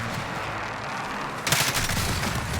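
Gunfire in the video game Call of Duty Warzone: a quieter stretch of rumbling action, then from about halfway a loud burst of dense, rapid shots that keeps going to the end, with no talk.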